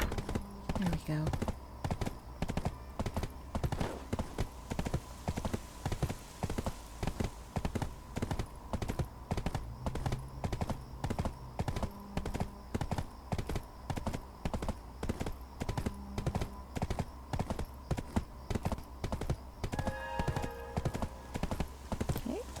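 Horse hooves clip-clop steadily and evenly in Black Desert Online as the mount travels, with occasional faint tones and a voice speaking over part of it.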